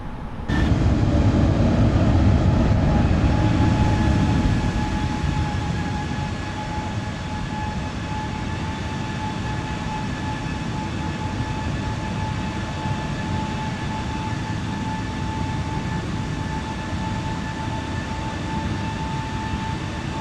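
Airbus A320neo engines at climb thrust in Microsoft Flight Simulator, flying from Ljubljana, Slovenia: a loud, steady roar with a sustained whine, slightly heavier at first and then settling to an even drone with no talk.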